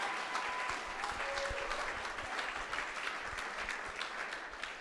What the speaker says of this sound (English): Round of applause for the computer store